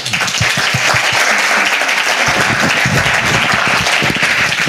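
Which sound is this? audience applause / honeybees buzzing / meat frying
audience applause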